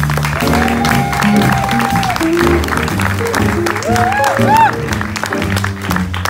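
A jazz concert crowd applauds, loud clapping and cheers filling the room while voices and a sustained tone ring over it, with a shout rising near the end.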